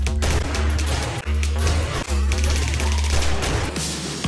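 Sustained gunfire from the 7 Days to Die horde fight, dense rapid shots that run almost without pause, with brief gaps, loud and close over a low rumbling bed.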